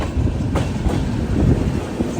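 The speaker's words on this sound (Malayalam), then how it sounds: "ട്രെയിൻ നല്ല സ്പീഡിൽ തന്നെ പോകുന്നുണ്ട്." A Humsafar Express train runs at speed near Pune, a loud, steady rumble of wheels with rhythmic clickety-clack from close by in the coach.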